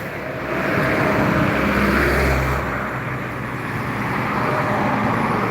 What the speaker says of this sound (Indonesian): Ada satu unit bus NPM Jetbus 3 menuju Pulau Jawa atau menuju rantau.